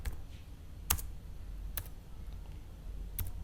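Keys tapped on a computer keyboard while typing in the nano text editor on a Linux system, sparse clicks with a few sharper strokes over a low steady hum, no voices.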